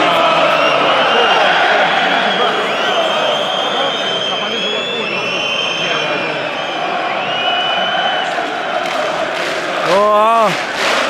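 Football crowd in a stadium at a Brighton versus AEK Athens Europa League match, a loud, sustained roar of voices with rising cheers and whistles, then a sharp swelling shout near the end.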